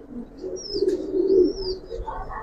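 High-flying pigeons coo softly in low, rolling murmurs amid a faint background hum, with a couple of thin high chirps passing over, fairly close.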